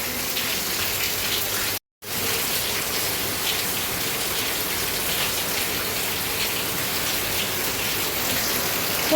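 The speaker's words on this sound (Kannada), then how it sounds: "ಸಿಕ್ಕಾಪಟ್ಟೆ ಜೋರು ಮಳೆ ಬರ್ತಾ ಇದೆ" Heavy rain pours steadily in a dense, constant hiss, broken only by a brief silent gap near the start.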